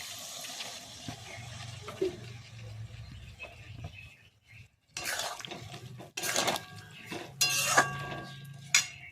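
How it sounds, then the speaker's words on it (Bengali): Water is poured into a pan of soybean chunks while cooking at home. Soft splashing and trickling come amid clinks of utensils against the pan. The sounds are quiet, with short louder bursts. "এরপর আমি সয়াবিনটাতে জাস্ট একটুখানি জল দেব।"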